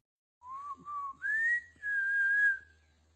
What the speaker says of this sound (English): the eerie sounds of phantom whistling